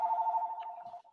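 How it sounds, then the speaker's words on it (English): A telephone rings in a classroom during a second-grade math lesson, one steady electronic trill lasting about a second, then cutting off into quiet. "That's a phone call from school."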